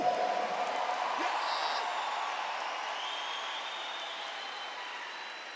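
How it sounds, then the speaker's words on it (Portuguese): A church congregation applauds during a sermon, giving a steady, moderately distant wash of clapping and crowd murmur that fades slightly over its length. "Pode aplaudir, pode aplaudir,"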